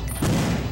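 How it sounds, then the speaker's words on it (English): A grenade blast in the shooter game Perfect Dark, a single muffled boom with a rumbling low tail that swells and lingers briefly, with no talking over it. "Grenades all over the place."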